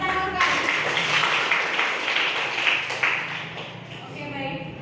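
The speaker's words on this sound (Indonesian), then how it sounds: "Oke, tepuk tangan Kak." A classroom group claps briefly after an Indonesian lesson on urban geography theories, a dense patter that fades out toward the end, with some speech-like sound mixed in.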